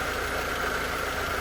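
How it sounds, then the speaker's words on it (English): A Mercedes 190e engine idles steadily, a continuous mid-range hum with a faint knocking texture and no voices, holding an even level throughout. "It's idling nice, it's running okay."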